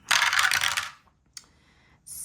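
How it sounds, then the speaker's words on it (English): Dice rattling and clattering onto a tabletop during a Christmas savings dice game, a short loud burst of plastic clicks followed by a single small tap and another brief rattle. "Oops, I rolled the wrong dice."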